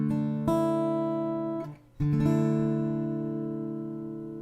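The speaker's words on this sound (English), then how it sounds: "which is a suspended chord" A suspended chord rings out on guitar, struck twice with a brief gap and re-attack, each strum sustaining and slowly decaying; close and clear, no voices.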